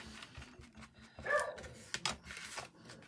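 A pet dog barks from inside the house at a postman outside the door: a few sharp barks stand out over a quiet room background, moderately close, spread across the clip.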